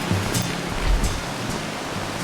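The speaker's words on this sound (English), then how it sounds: "Do you remember the sound of the ocean waves?" Ocean waves wash steadily in Lightning Returns: Final Fantasy XIII, a soft, continuous surf hiss with gentle low swells rising and falling, heard alone at moderate level.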